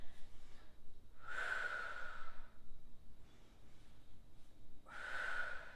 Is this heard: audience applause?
no